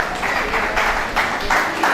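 Steady crowd applause at an all-Pakistan mushaira poetry gathering in Layyah, welcoming a guest, a sustained wash of clapping with a few swells, fairly near and continuous throughout.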